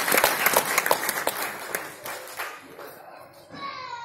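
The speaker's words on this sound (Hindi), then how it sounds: "जोरदार तालियां मित्रों।" Audience applause at a book release event, a burst of many hands clapping loudly at first, then thinning and fading toward the end as a few scattered claps remain.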